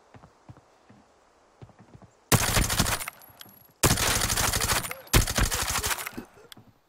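Automatic gunfire in the shooter game Arena Breakout: three loud, rapid bursts of shots, each lasting a second or so, separated by short quiet gaps with faint footsteps.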